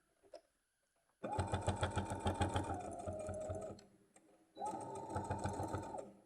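A sewing machine top stitching a coin purse runs in two bursts, a fast rhythmic mechanical whir close by, with a short pause between runs.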